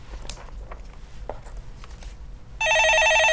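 A telephone bell starts ringing abruptly in a loud, continuous electronic trill after a few seconds of quiet room noise and faint movement.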